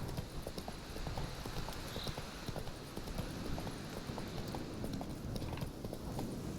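Steady clip-clop of a horse's hooves trotting along a path in The Witcher 3, rhythmic and continuous at moderate distance over a low ambient wash, with no talking.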